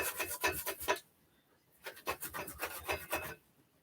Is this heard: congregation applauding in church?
no